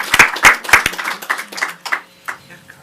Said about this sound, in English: ask you to join me in giving them a warm round of applause